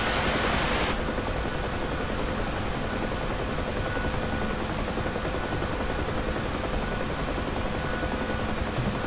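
Huey helicopter taking off in the DCS flight simulator, a dense, steady rotor and turbine roar that stays loud and unbroken throughout, with a brief higher hiss at the very start.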